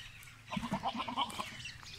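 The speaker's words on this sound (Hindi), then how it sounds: "ये गब्बन तैयार बकरी है" A pregnant goat on a goat farm in Dera Ghazi Khan gives a short, faint bleat with a few wavering notes, over quiet farmyard background and no talking.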